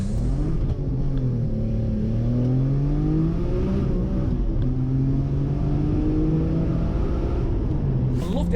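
A supercharged 550 hp BMW E46 M3 accelerating hard, its loud engine note climbing steadily in pitch and dropping back between gears, with a continuous rumble throughout and no talking.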